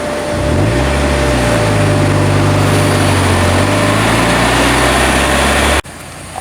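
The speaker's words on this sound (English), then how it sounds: "if I put it in first gear, it'll start moving" Manual car engine pulling away in first gear, a steady close drone with a deep low hum, holding loud and even before cutting off abruptly near the end.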